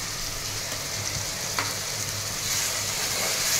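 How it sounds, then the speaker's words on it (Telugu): Onions frying with masala and tomato paste in a pan, a loud continuous close sizzle with one brief scrape of a spoon partway through. "ఇది బాగా ఫ్రై చేయాలి"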